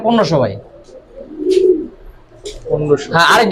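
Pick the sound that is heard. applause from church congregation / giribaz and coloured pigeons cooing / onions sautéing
giribaz and coloured pigeons cooing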